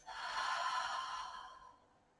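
A single long breath exhaled out through the mouth during a yoga flow, a soft airy rush that swells quickly and fades away over about two seconds.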